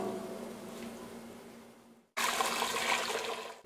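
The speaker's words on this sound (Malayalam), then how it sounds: "ഇനി ഈ പാത്രത്തിലേക്ക് തിളച്ച വെള്ളം ഒഴിച്ചു കൊടുക്കുക." Boiling water is poured into a cooking pot to cook biryani rice, a low hum before a brief pause and then a sudden, loud rushing splash of water that continues steadily to the end.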